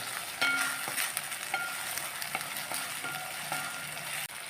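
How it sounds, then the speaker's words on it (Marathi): Crushed garlic and ginger paste fries in a pan for a paneer masala curry. Steady sizzling continues as a spoon stirs with repeated light scrapes and taps nearby. "आता लसूण अद्रकची पेस्ट आपण थोडा वेळ हलवली एकसारखं केलं आहे"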